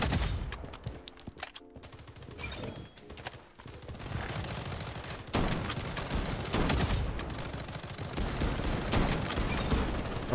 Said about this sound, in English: she just gunned him down with that shotgun